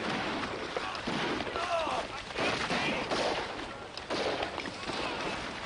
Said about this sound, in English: permission to go to the sound of the firing